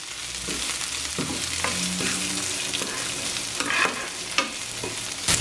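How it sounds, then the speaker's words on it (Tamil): Onions sauté with black chana for Sri Lankan sundal, giving a gentle steady sizzle broken by several scraping stirs of a spoon against the pan. "இன்னும் ஒரு நிமிஷம் வதங்க விடுவோம்"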